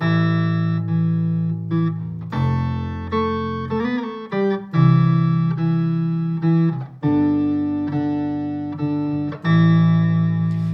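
Distorted electric guitar and bass play sustained chords together, changing every second or so in a steady, loud progression.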